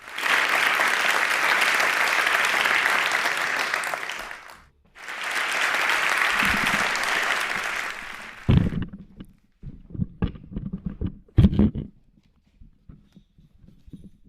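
Home and studio audience applause welcoming two performers at an online reporter slam, two steady bursts of clapping with a brief gap between them, followed by scattered thumps and bumps of movement near the microphone.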